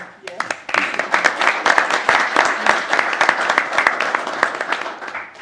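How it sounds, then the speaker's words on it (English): A council meeting crowd bursts into a round of applause, dense, steady clapping from many hands filling the room for several seconds, with a few voices mixed in under it. "you want to give him a round of applause, maybe?"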